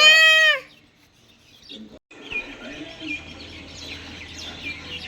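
Bright, high bird chirps and tweets at a bird sanctuary, loud at first, then fainter scattered calls with a low steady hum underneath.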